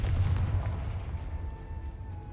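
Confringo blasting spell exploding in Hogwarts Legacy, a heavy, booming low rumble with a rolling, sustained blast tail, loud and close, with no voices.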